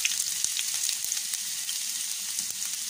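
Chopped ginger and garlic sautéing in hot oil with fennel seeds for a Kottayam-style Kerala beef coconut fry make a quiet, even hiss dotted with faint crackles and light ticks.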